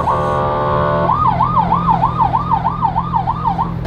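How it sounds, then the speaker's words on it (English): A Lamborghini Aventador's siren wails up and down in a steady rhythmic cycle, loud and close, over a constant low engine rumble after a brief steady horn tone, in New York City. "It's gonna hit the siren."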